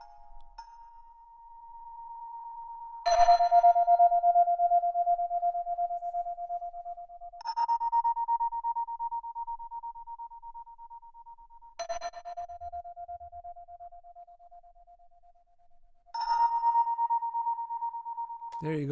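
Steady electronic tones in a song breakdown, run through an intense tremolo and alternating between two pitches in long held sections that swell and fade as they shift, with a brief voice at the very end.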